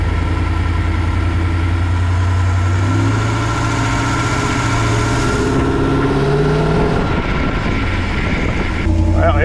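A small-block Chevy V8 swapped into a Toyota idles steadily, now running on all eight cylinders after a misfire, giving a loud, continuous low rumble with a fairly even throb throughout.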